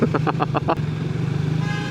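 Car horn beeps six times in quick, rhythmic succession, then stops, leaving a steady engine drone in traffic.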